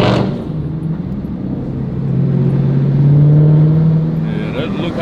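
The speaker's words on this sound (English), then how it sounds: "Burn a little rubber." A 2021 Dodge Challenger Hellcat Redeye Super Stock V8 drones low and builds in loudness as it is revved, with people talking over it.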